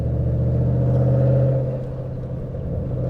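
A loud Ford Mustang GT engine rumbles steadily in third gear from inside the car, a deep droning note that swells briefly then eases off slightly.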